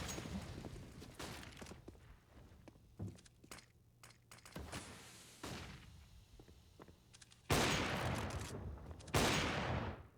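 Rifle fire in a CS:GO match on the de_mirage map: scattered sharp single shots and short bursts, building to two loud, dense volleys near the end, with almost no talk.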